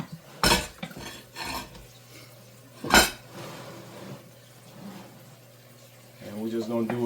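Chicken pieces for Marsala chicken flipped in a hot pan, giving a few sharp metallic clanks and scrapes against the pan over a faint steady hum, with a voice talking near the end.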